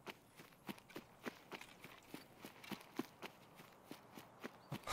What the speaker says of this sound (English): I was hearing like the faintest footsteps